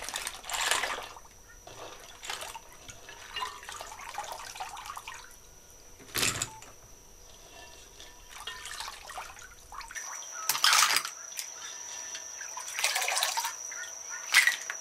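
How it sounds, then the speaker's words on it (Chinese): Seafood ingredients (prawns, sea snails, abalone and razor clams) are rinsed under a running tap, with intermittent bursts of gushing water and splashing between quieter dripping pauses. "最后，我们再将所有原材料清洗几遍"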